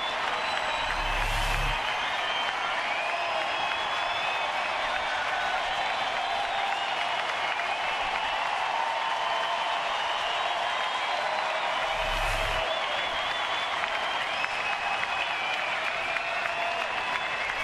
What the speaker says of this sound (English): Here comes the crowd now.